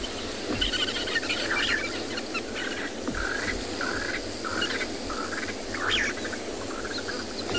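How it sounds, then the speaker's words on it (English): Wild birds call on safari among elephants and hippos, with repeated chirping phrases over a steady insect and cricket drone, moderately distant and continuous without talk. "all of the birds sound that you can hear on the background"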